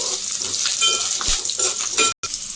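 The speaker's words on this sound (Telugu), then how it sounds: "ఇప్పుడు వెల్లుల్లి రబ్బలు వేసుకుందాము." Garlic cloves frying in an oil-filled pan for a drumstick leaf curry, a steady loud sizzle with a few scraping stirs of a spoon against the pan.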